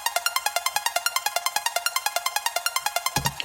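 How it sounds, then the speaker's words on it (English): Plucky square-wave synth with automated volume playing a fast, even arpeggio of short staccato notes, bright and steady, with a low thump entering near the end. "it makes this really plucky sound like this."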